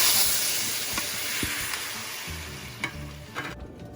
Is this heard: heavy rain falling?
no